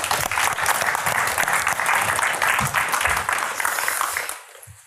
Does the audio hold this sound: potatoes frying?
no